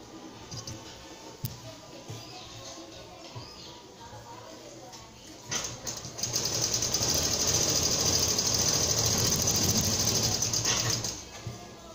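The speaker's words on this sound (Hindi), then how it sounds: "अब इसको पलटा के इसके ऊपर एक सिलाई मारना।" Sewing machine stitching a line across fabric, quiet handling clicks first, then a steady mechanical whirring run of several seconds that stops abruptly.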